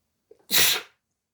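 A single sharp sneeze, preceded by a quick breath intake, bursts out loudly and close, then stops, leaving silence.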